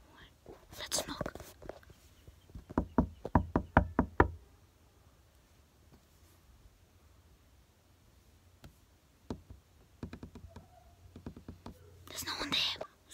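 A series of knocks, first a quick run of several raps, then a sparser second set, close and moderately loud, with whispering heard at the start and end.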